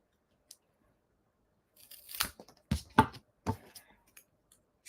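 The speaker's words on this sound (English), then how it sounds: "you can, cut one of these in half. There's my scissors." Scissors cut cardstock while a handmade sand dollar card is being assembled. A few close, crisp snips and crunches follow a quiet start, with faint handling noise in between.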